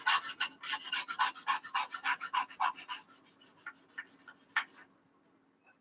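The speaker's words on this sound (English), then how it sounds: "I always do a little sanding around the wings." Hand sanding around the wing joints of a 1/48 Tamiya Avro Lancaster plastic model kit, a quick series of close, raspy back-and-forth strokes that slow into a few scattered rubs and fade.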